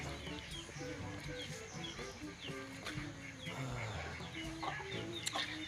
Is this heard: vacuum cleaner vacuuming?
no